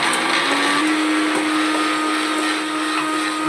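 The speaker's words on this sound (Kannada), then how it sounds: "ಹೋಗುತ್ತೆ ಮಿಕ್ಸಿ" A mixie mixer grinder runs close by with a loud, steady high whir that holds evenly throughout, with no voices.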